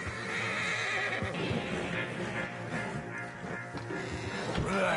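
Stallions in the Western video game Red Dead Redemption 2 give a loud, sustained whinny over clip-clopping hooves and dense ambient game sound, the neigh rising clearly toward the end.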